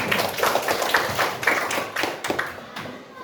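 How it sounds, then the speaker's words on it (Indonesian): Students in a classroom clapping for a classmate, a small group of uneven, close hand claps for a few seconds. "Sampai tepuk tangan untuk Abang."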